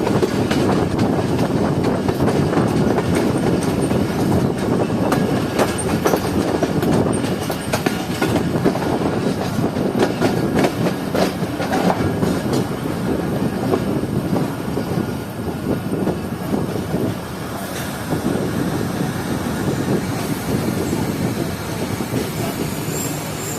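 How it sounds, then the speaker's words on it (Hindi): A passenger train rumbles loudly close by arriving at Lalamusa railway station, with rhythmic wheel clatter and occasional metallic squeals as it rolls in, with no voices. "लाला मूसा रेलवे स्टेशन पर ट्रेन पहुंच चुकी है"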